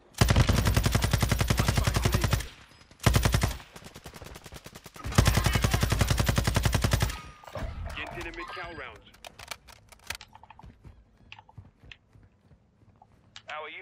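A minigun roars in Call of Duty on Ashika Island, with long loud sustained bursts broken by short gaps, then fading into scattered game sounds and distant effects.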